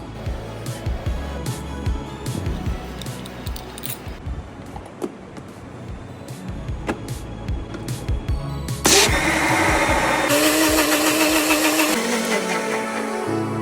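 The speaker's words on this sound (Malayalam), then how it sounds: "ജെല്ല് മാത്രം നമ്മൾ 1 ലിറ്റർ വെള്ളവും ആവശ്യത്തിനുള്ള പഞ്ചസാരയിട്ട് അടിച്ചിട്ടുണ്ട്" A blender mixes passion fruit gel with water and sugar. Close handling clatter comes first, then the motor switches on into a loud, steady whir that shifts pitch slightly as it runs.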